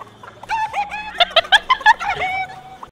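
A chicken in the video game Fortnite clucks in a quick run of bright, choppy notes, close and loud over a low game background.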